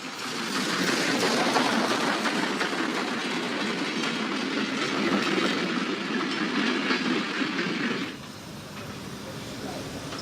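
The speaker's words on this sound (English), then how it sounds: "The train from Cluj runs into the station of Razvoieni." A train from Cluj rumbles past close by with a steady roar and rhythmic clatter of wheels, then the noise drops off as it slows into Razvoieni station near the end.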